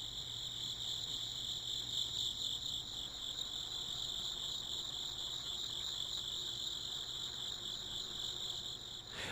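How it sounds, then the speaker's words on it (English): Loud, steady insect drone of cicadas filling a Kitty Horrorshow haunted-city game, a continuous high buzzing that holds unbroken throughout with a faint low hum beneath. "I'm guessing these are supposed to be cicadas that are making noises."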